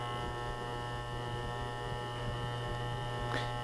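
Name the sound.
electric hair clipper with guard cutting hair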